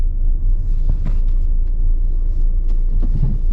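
Steady road traffic on an industrial estate, a low continuous rumble of cars passing nearby with a few brief louder swells, with no talking.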